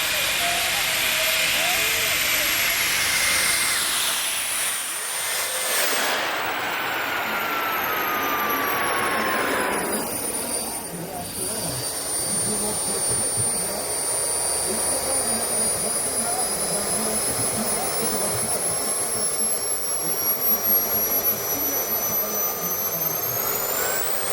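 An aerotrain, a jet-engine-powered tracked hovercraft vehicle, takes off at an outdoor festival stand: a loud, sustained jet roar with whistling tones that rise and fall as it runs, with a voice audible over it.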